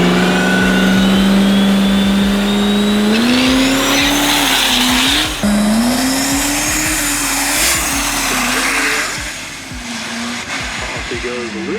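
A two-wheel-drive diesel race truck launches hard on a drag strip, its engine roaring loud and close, with a brief stutter at a gear change before it pulls away, and a commentator speaking over the noise.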